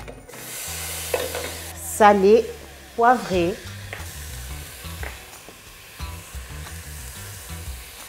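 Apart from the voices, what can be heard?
meat frying and stirred in a saucepan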